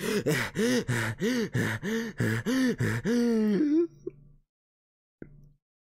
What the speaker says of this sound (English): I'm panting excessively.